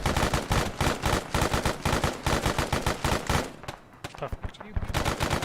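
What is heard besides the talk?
suppressing gunfire in the video game Arma 3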